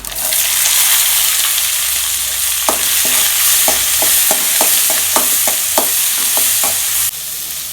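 Small shallots fry in hot oil for a moringa leaf dal, producing a loud, continuous crackling sizzle with a quick series of sharp spatula taps against the pan partway through.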